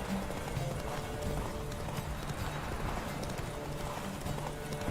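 Roach, a horse in The Witcher 3, gallops with rapid, even hoofbeats under a dense, steady wash of game sound, moderately quiet and continuous throughout.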